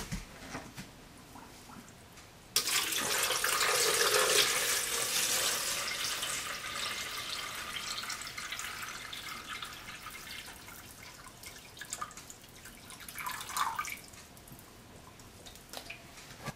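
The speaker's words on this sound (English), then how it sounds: "we'll fill the reservoir up with filtered or bottled water" Water pours steadily into the reservoir of a Keurig K55 coffee maker, a broadband rushing stream that starts abruptly, then gradually softens as the reservoir fills, with a few light splashes near the end.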